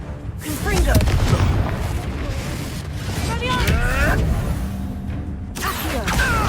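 Confringo fire spells fired during Hogwarts Legacy gameplay burst into a string of booming, rumbling explosions with whooshing tails and crackling debris, loud and close, while character voices and game effects sound in the background.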